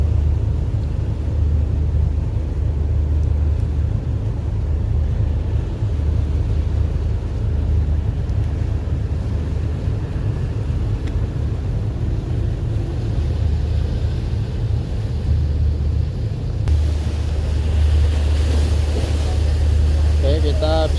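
Motor vessel Meratus Bontang berthing in port with one pilot and a tug, heard as a steady loud low engine rumble with wind buffeting the microphone throughout.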